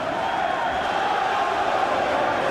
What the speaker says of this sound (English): The crowd chanting